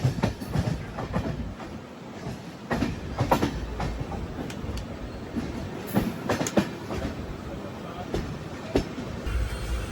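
Netravati Express sleeper train rolling at cruising speed past Panvel, a steady rumble of wheels on rails with rhythmic clicks and clatter, heard from inside the carriage with faint background voices.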